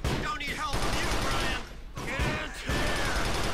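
Rapid bursts of gunfire in GTA 4: The Lost and Damned crackle loudly in quick succession, a dense automatic volley with brief pauses between sprays.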